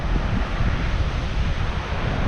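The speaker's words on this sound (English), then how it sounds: "It is a bit windy down here" Steady wind buffeting and rolling surf at a South African beach, a continuous broadband roar with low rumbling gusts hitting the microphone, no voices.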